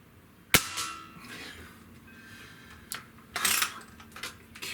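A single sharp crack from a Diana 54 Airking Pro air rifle shot, then scattered clinks and rattles a few seconds later as the pellet hits a red egg target, near and fairly loud with no talking.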